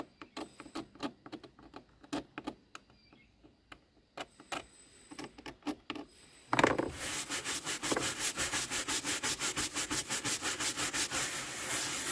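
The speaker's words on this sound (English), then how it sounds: "all I can do is very carefully scrape it with my knife to get it off" A knife scrapes stubborn Waquoit mud off a surface, first in sparse, separate rasping strokes, then in fast, loud, rhythmic back-and-forth scraping that carries on steadily to the end.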